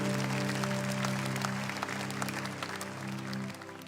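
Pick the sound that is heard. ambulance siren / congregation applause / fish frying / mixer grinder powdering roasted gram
congregation applause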